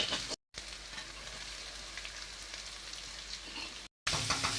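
Steady sizzling of long-sliced onions frying in a pan for dragon chicken, a continuous crackling hiss with brief cutoffs, no voices.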